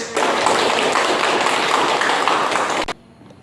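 Classroom applause sounds as a steady burst of many hands clapping for about three seconds, then stops abruptly into quiet room tone.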